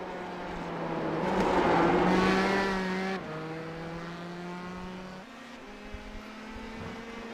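Open-wheel race cars in a racing video game at Indianapolis, engines droning loud and steady at high revs, the pitch dropping with each gear change and climbing again, with no voices over them.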